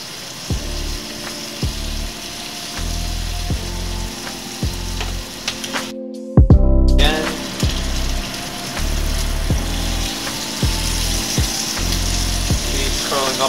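Bacon strips frying in a hot cast iron pan with a steady close sizzle, broken by scraping and clanking as the strips are turned, with a brief louder burst of spitting partway through.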